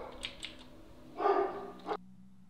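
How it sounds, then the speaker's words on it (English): A pet dog barks a few short, sharp yaps at a distance, followed by a louder, closer bark burst, with faint keyboard typing in a quiet room. "my dog is barking like a psychopath"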